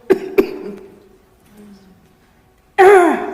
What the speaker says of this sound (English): Everybody gets a cough every once in a while.